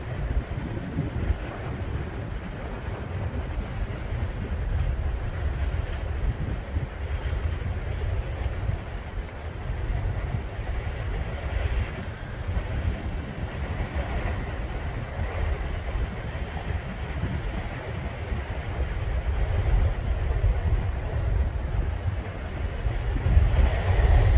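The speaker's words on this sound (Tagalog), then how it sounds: "Ang lakas ng alon, oh. Ayan, malakas na alon." Strong ocean waves surging and crashing at a coastal nature park, a continuous loud roar of surf mixed with wind rumble, with no speech.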